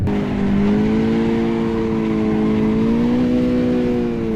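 A car engine held at high revs while drifting, a loud sustained droning roar that rises and dips slightly in pitch, close and continuous with no talk.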